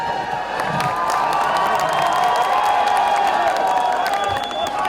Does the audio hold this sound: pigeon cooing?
no